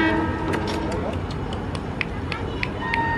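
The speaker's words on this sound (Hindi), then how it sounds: "ट्रेन आ रही है ये साइड पे" A train arriving at Ukshi station on the Konkan Railway, with a steady rumbling and rattling of wagons and faint horn tones, heard alongside people talking nearby.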